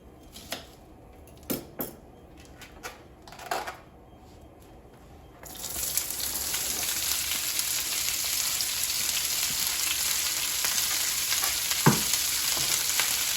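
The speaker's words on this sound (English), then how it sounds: "And now let's add the cabbage." Cabbage frying with bacon in a pan: a few soft clicks and stirring sounds, then a loud, steady sizzle that fills the rest of the clip, with no talk.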